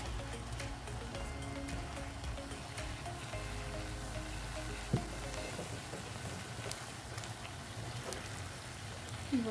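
Poblano pepper strips frying with squash, onion and corn in a pan: a steady soft sizzle with faint crackles throughout, fairly quiet, with no one talking.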